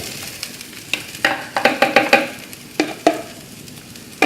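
Sabudana sago pearls are fried and stirred in a pan over a high flame. Repeated scraping strokes, a quick cluster followed by a few spaced ones, sound close over a light sizzle.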